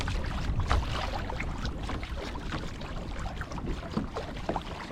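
A 2021 Hobie Mirage Compass kayak pushes through slight chop into wind and current, a continuous rushing wash of water and wind buffeting the microphone, close and loud, with no talking.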